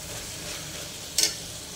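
Mutton curry with tamarind leaves is stirred in a pan, a soft steady sizzle with one brief scraping clink of the spoon midway through, close and fairly quiet, with no one speaking.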